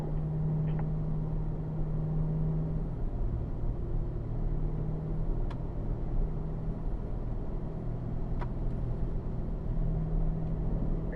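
A Corvette engine holds a steady, low rumbling drone on a track run, continuous and even in level, with no voices over it.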